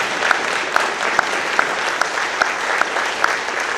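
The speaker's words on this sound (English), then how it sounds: "you can give them a round of applause" Sustained audience applause during a leadership speech, a steady dense wash of clapping from a room full of people, loud and continuous with a few sharper claps standing out at regular intervals.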